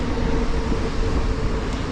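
A tram rolls close behind an e-bike on a stormy city ride, its steady low rumble and rail noise filling the whole moment, loud and continuous with no talking.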